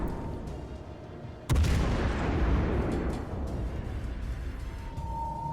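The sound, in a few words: naval gun firing a shot, World of Warships Legends video game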